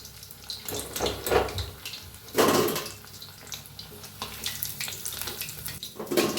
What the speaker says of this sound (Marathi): सगळं मी असेच तळून घेते